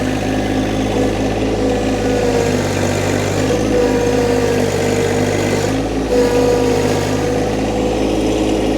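A John Deere 1025r compact tractor engine runs under heavy load while straining to lift big logs, a steady loud drone with slight shifts in pitch, close and continuous without speech.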